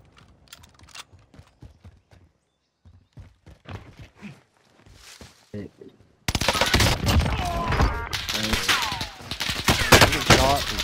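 Bursts of gunfire in a shooter video game, first quiet scattered clicks and taps, then loud dense volleys of shots and impacts crowding together, with a player talking over them.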